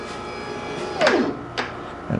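Shapeoko CNC machine gantry sweeping across the board, a short rising then falling motor whir as it travels, followed by a couple of faint clunks, close and fairly quiet.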